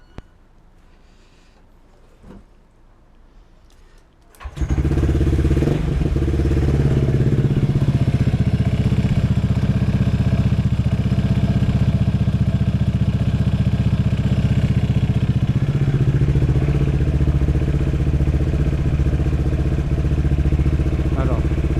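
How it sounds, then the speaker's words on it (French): A Honda Forza 125 scooter fitted with a new belt is started. After several seconds of quiet handling noise, the engine catches and runs loud and steady at close range for the rest of the clip. "je démarre un coup pour tendre la courroie"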